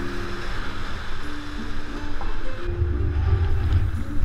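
Whitewater rapids on California's Salmon River at a low flow of about 450 CFS rush steadily past a kayak, a broad, continuous roar with some wind buffeting the microphone.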